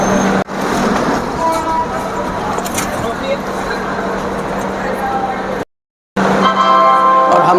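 Howrah Bikaner SF express (12371) standing at Ghaziabad station, a steady loud rumble of train and platform noise with a brief dropout, with people talking throughout.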